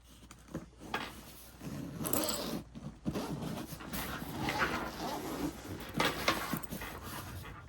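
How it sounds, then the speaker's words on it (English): A travel backpack's expansion zipper is pulled open in several quick, raspy strokes close by, with soft rustling and a dog panting nearby. "This is the zipper that adds 5 liters of space to your bag."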